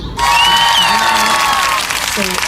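A short, loud burst of clapping and cheering fills the moment, with a voice talking over the applause and a higher whistle-like tone sliding through it.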